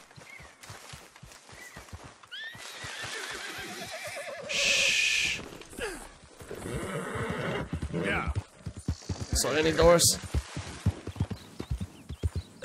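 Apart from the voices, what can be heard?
horses whinnying in Red Dead Redemption 2 video game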